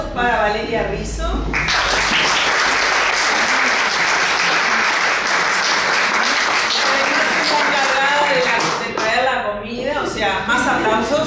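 An audience at a research presentation breaks into sustained applause, dense clapping swelling and holding for several seconds, with a speaker's voice heard at the start and end.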